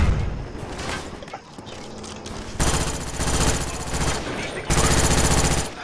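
Call of Duty automatic gunfire rattles in loud, rapid bursts, with two long sustained volleys after quieter scattered shots and background game noise.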